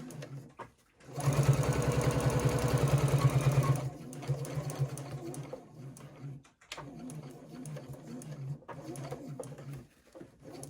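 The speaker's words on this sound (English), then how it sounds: "Stitching to secure." A sewing machine stitching a wrist strap runs in a fast, loud, even whir for about three seconds, followed by quieter handling noises and softer mechanical clatter.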